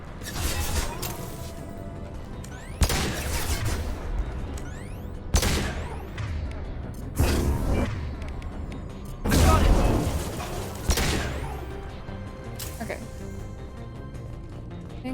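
Heavy booming video game gunfire in Mass Effect 2, several loud blasts spaced a few seconds apart under steady talking and game background noise.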